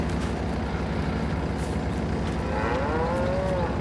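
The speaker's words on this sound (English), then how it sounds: "We got cows and they are eating." Cows on a dairy farm in Farming Simulator 22, a drawn-out moo rising over a steady low engine-like hum, close and clear, with no talk.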